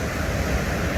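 Ocean surf at Laguna Beach rushes in a continuous broadband wash, close and steady with a windy edge, and no voices over it.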